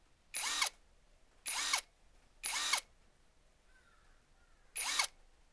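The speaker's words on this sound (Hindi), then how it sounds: "तो वाशर फिर 18 नंबर बोल्ट को टाइट कर लेते हैं।" Power drill or impact driver tightening a number 18 bolt on a CBR 150 motorcycle during a one-way starter bearing replacement: four short, loud whirring bursts, evenly spaced with a longer pause before the last, no talk.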